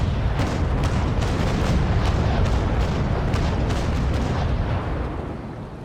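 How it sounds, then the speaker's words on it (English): A ship's cannon broadside fires in the naval sailing game Naval Action, a quick rolling series of about ten heavy booms over a dense, continuous rumble before it fades out. "I would say that was a very successful broadside"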